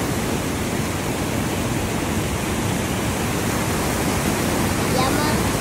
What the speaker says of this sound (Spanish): a la super cascada